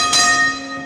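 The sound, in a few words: bell of a Melbourne museum tram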